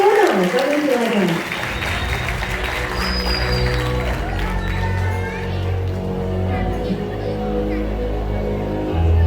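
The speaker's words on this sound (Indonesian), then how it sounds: "Boleh berikan tepuk tangan yang meriah untuk Bapak Suryono." An audience at a Bank Indonesia currency event in Riau Islands applauds a speaker, the clapping starting under a short stretch of speech and then running steadily at moderate loudness through the rest.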